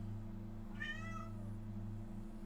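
A cat gives one drawn-out meow, rising and then falling, heard alone and at moderate distance over a steady low electrical hum.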